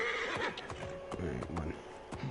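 A horse in the video game Assassin's Creed Origins snorts and whinnies over hoof clops while ridden off-road, with game sounds and a voice talking over it.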